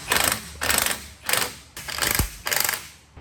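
Spring compressors on a Toyota Supra strut assembly being loosened during a lowering-spring swap, five rhythmic bursts of metallic ratcheting, each about half a second, close and fairly loud with short pauses between.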